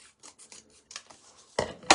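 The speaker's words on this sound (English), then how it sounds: "I'm just going to use some scissors like this" Short, crisp snips and rasping scrapes of scissors cutting cardboard come in quick irregular bursts, close by, ending with two louder cuts.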